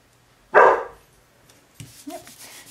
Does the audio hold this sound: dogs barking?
yes